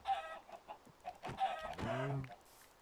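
Chickens clucking in the Minecraft video game, a series of short soft clucks and squawks that come in a few bursts at close range.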